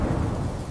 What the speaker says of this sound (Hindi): तूफान आ गया।